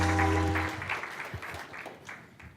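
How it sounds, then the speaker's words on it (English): Conference audience at App.js Conf applauds as a speaker comes on stage, a dense burst of clapping that thins out over a few seconds. "Let's give him a round of applause as he comes up."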